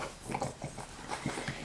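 Dog eagerly gobbling treats indoors: quiet, busy chewing, snuffling and lip-smacking noises run continuously without talk.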